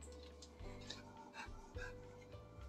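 A dog pants softly indoors, quick faint rhythmic breaths close by under a steady low hum, with light rubbing noises mixed in.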